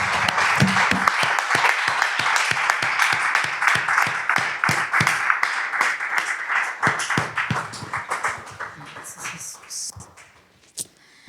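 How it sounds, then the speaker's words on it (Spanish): Church congregation applause at a Spanish-language service, a few prominent rhythmic claps over a broader clapping crowd that thins and fades toward the end, with a last isolated clap. "Un aplauso"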